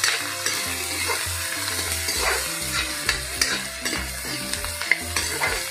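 Ginger, cumin and whole garam masala fry in hot oil in a home kitchen, sizzling steadily up close while a spoon stirs and scrapes the pan in irregular strokes.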